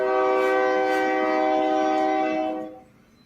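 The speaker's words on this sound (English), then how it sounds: "That was a train." A train horn blares loud and steady in a long sustained chord for nearly three seconds, then cuts off, leaving faint rumble of the passing train; no talk over it.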